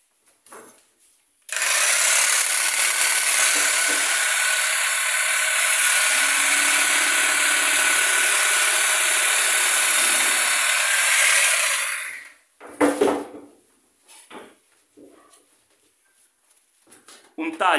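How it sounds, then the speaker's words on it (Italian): A jigsaw fitted with a Bosch T 313 AW blade makes a straight cut through foam rubber, a loud steady buzzing that runs for about ten seconds, then stops, followed by a few knocks and handling noises. "facciamo un taglio qui, facciamo intanto un taglio dritto e così vediamo come si comporta"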